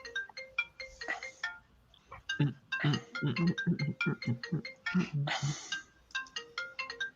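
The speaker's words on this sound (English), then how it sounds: "Are they calling you back, Todd?" A phone ringtone plays a quick, repeating melodic pattern of bright electronic tones in bursts for several seconds to signal an incoming call, heard nearby with no talking over it.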